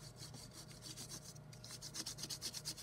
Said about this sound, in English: when you close it and you use the side of a crayon, you can reveal the secret image